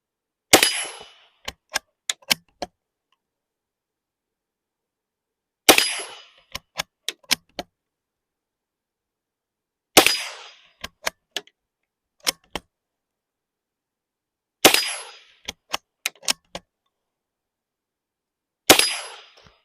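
A Romanian M rifle on an outdoor range fires five shots at small steel gong targets. Each shot is a sharp crack followed by a short series of bright metallic clangs with quiet gaps in between.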